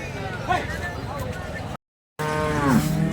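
A cow at the Sangola cattle market moos several times nearby, low drawn-out calls broken by a short moment of silence, with faint voices in the background.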